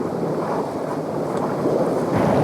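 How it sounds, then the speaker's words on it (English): Steady wind roaring across the microphone on a sailing boat with rushing water beneath, rising slightly toward the end like a gust building. "Got another gust coming."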